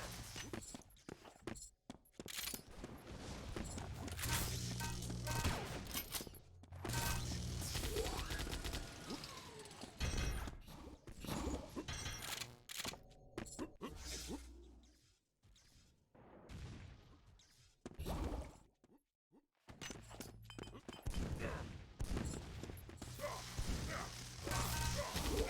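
A Gatling gun fires in a Doombringer duel match, with rattling mechanical bursts and crashing impacts chopped by short silent gaps across about twenty-five seconds of busy game action.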